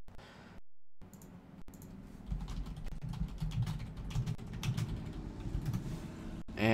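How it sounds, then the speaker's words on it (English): Someone types quickly on a computer keyboard indoors. The keys make a dense, continuous patter of close, soft clicks over a low background hum, with no voices. "now's the part where you hear me typing a lot"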